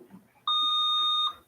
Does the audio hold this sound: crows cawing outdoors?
no